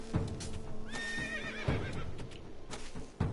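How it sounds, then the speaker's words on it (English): A horse in the video game Tetris Effect gives a loud, close whinny with a rising and falling call, among sharp clip-clop hoof hits and game sounds. "Big old horsey neigh."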